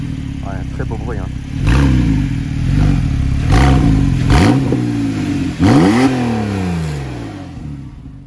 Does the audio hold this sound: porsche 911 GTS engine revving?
yes